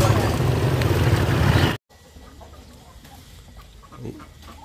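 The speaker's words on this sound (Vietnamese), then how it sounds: "Đấy, đàn gà đen của bà như thế cơ mà." A flock of black chickens clucks at a rural village market, loud and close at first, then after an abrupt cut a quieter scene with scattered faint clucks and light background noise.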